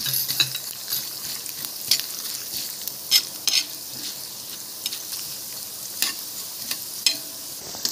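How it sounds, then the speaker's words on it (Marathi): Rice, chana dal and urad dal are stirred and roasted in a pan after mustard seeds have popped, giving a soft continuous sizzle with sharp spoon scrapes and clicks every second or so, close up, with no voices. "त्याच्यामध्ये तांदूळ, चणा डाळ आणि हे उडदाची डाळ घालून घेऊया आणि चांगलं फिरवून घेऊया"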